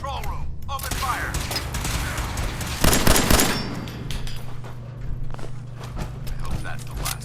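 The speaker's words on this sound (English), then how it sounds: "Every last one of them! They're in the control room. Open fire!" Gunfire in Fallout 4 during a fight in a control room, scattered shots and clattering bursts with one loud burst in the middle, under a character's shouted voice.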